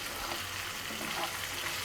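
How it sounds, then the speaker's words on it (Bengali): Garlic cloves frying in oil in a pan, giving a steady, close hiss of sizzling with faint crackles throughout and no talking. "মাংসটা লাল লাল করে ভেজে নিচ্ছি আর এখন রসুনের কোয়াগুলো ভেজে নিচ্ছি"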